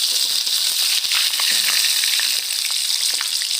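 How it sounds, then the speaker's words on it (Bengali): Rui fish frying in hot oil for a spinach curry, a steady close sizzle with scattered crackles and pops running the whole time, no talking. "পরের ব্যাচটা আমি এভাবে ভেজে তুলে নেব।"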